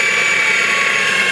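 A Baileigh 20-inch DP 1500VS variable-speed drill press runs at its highest speed in high gear, giving a steady, loud mechanical whine with a bright tonal hum held evenly and close throughout.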